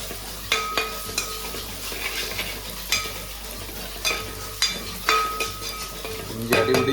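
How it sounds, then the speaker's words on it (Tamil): Onion, ginger and garlic sautéing in a pan for a fish curry: a steady close sizzle with repeated scraping and stirring strokes and occasional metal clinks of a spoon against the pan. "உள்ளி வதக்கிட்டு இஞ்சி பூண்டை போட்டோம்னா சரி மணமாகும்"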